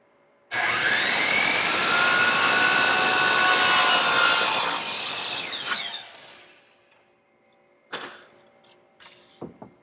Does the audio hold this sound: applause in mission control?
no